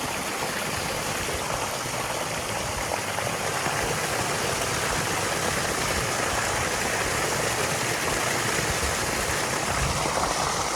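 A stream of water gushes continuously from a motor pump outlet in a village farm setting, a loud, steady rushing wash with no pauses and no talk.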